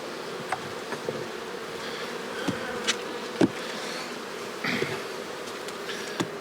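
Honey bees buzzing around an open hive with frames of drawn comb and brood, a steady close hum with scattered sharper passes and light clicks of handling, no talk.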